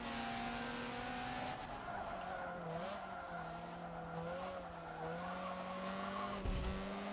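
A race car corners hard in the Forza Motorsport 7 video game, its tires squealing in long wavering tones over a steady engine drone for several seconds, loud and close, with no talking.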